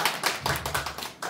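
Children in an elementary school lecture audience clap together in a brief, quick burst of close, sharp hand claps lasting just over a second.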